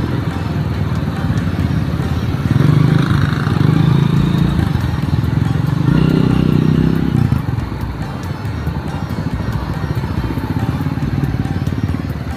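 Motorcycle engines idle and putter in a long traffic jam, a dense low rumble that swells as bikes pass close nearby, then eases to a steadier background drone.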